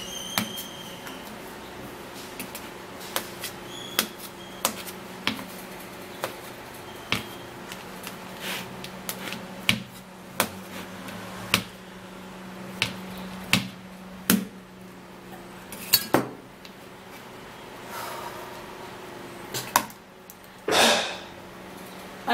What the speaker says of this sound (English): So now I would have to be cutting it into pieces.